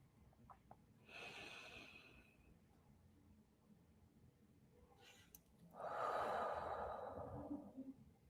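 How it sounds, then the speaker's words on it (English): Slow, deep breathing in a calm guided box-breathing exercise: a long inhale early on, then a quiet held pause, followed by a louder, fuller exhale that trails off, close and breathy with no talking. "we'll do box breathing in for 4, holding for 4, breathing out for 4, and holding for 4"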